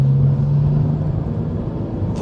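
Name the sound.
BMW M135i N55 engine with turbos spinning up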